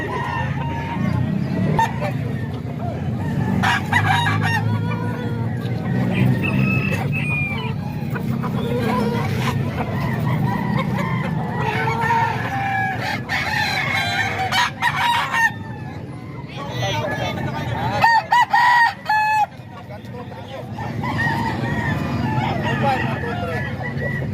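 Rooster crows and clucks repeatedly across the span, loud and close, joined by other chickens over a steady background hum; a person speaks briefly at times.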